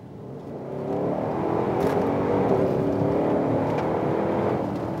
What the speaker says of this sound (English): This car sounds every bit the monster that it is.